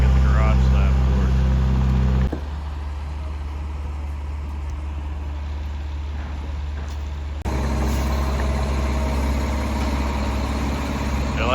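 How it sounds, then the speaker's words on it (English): A concrete truck's diesel engine idles on a building site where a garage slab is about to be poured, a steady loud low rumble throughout with a dip in level midway, under background activity. "Already got a concrete truck out here before we get the garage slab poured."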